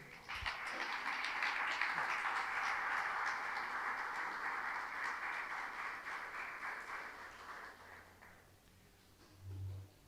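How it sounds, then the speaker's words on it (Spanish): A church congregation applauds loudly after a sermon, a dense, sustained wash of clapping that lasts several seconds and then fades out, followed by a low thump. "Denle un fuerte aplauso al Señor."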